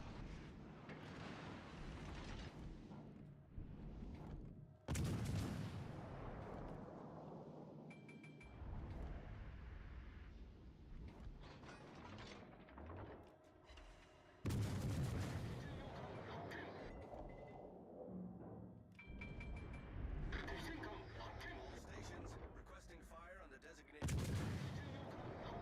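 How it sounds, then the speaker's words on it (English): Heavy gunfire and booming blasts in a video game, repeated loud bursts and sudden impacts over a rumbling background, with a player talking at times. "He's shooting at me from over there."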